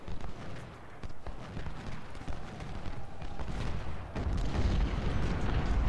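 Civil War artillery firing during a battle at Bull Run in the strategy game Ultimate General: Civil War, a dense wash of booming cannon and scattered crackling shots that thickens and grows louder toward the end.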